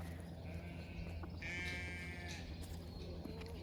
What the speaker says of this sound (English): Hear the sheep. They're behind me up in the house.